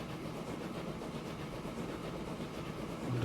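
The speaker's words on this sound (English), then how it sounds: "Let's see how the train does" A train runs along the tracks in the transport-building game Transport Fever 2. A steady, quiet rumble of rolling wheels with faint rhythmic clicking continues throughout, with no speech.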